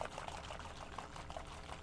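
Warm water pours into yeast for a home science experiment, a steady liquid splash and trickle lasting a couple of seconds, close and fairly quiet, with no talking.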